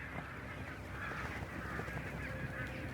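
Flock of migrating water birds, geese, honking continuously on tidal mudflats near an Elbe river island, a dense overlapping chorus of calls at moderate distance with steady background noise and no talk.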